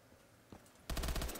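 AK rifle firing on a custom zombie map, a rapid automatic burst of loud, close shots that starts abruptly after a quiet stretch and continues steadily to the end.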